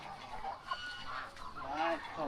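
Chickens in a farm coop beside pig and duck pens, giving soft, scattered clucks and short calls at a moderate distance, fairly quiet, with faint background sounds.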